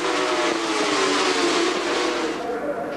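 Superstock racing motorcycles at the Cadwell Park circuit during a 2000 British Superbike support race, a loud continuous roar of engines at high revs, several bikes blending together without a break.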